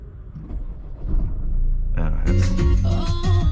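A 2021 Opel Insignia, a diesel, starts on the push-button starter on a cold day: quiet murmur, then a sudden loud burst of cranking and a steady, rumbling idle close by.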